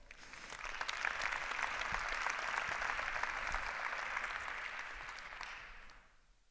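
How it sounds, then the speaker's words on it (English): A conference audience applauds steadily, a dense even patter of clapping that holds for several seconds before fading out near the end. "Let's give him a hand of applause."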